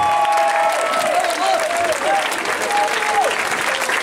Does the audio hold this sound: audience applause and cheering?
yes